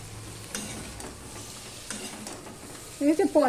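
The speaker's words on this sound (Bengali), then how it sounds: "ঢাকা দিয়ে দিয়ে আমি পটলটা ভেজে নেব" Pointed gourd (potol) fries in a small amount of oil, with a soft sizzle and stirring scrapes ending in a short burst of louder metallic clatter. Nobody speaks.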